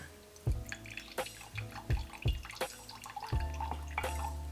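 Olive oil and balsamic vinegar are poured for a simple salad vinaigrette. The liquid comes in quiet, soft splashes and drips, with a few light clinks spread across a few seconds.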